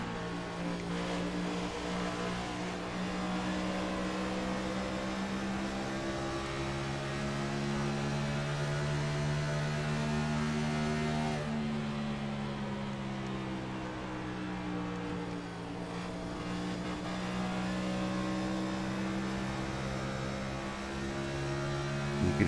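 Onboard engine of a NASCAR race car in the iRacing sim at Nashville Superspeedway, a loud steady drone that dips as the driver lifts off the throttle and then builds back, continuous with no talk.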